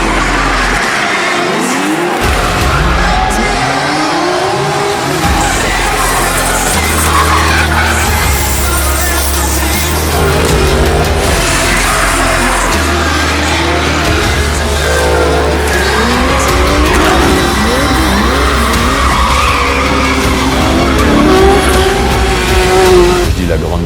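Drift cars at the Pipay drift event in France scream through sustained tire squeal over loud, revving engines. Dense and continuous close by, with voices faintly mixed in.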